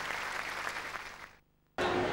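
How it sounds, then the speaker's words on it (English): A burst of clapping from a group, fading into a short silence before loud sound resumes abruptly. "a big round of applause to Georgina Parkinson."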